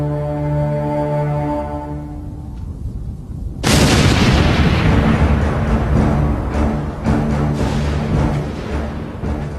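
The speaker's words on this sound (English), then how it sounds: "Big Bertha, the world's largest cannon" Big Bertha, the giant German cannon, fires a shell with a sudden massive boom that rolls into a long, loud rumbling roar, preceded by a quieter low tonal drone.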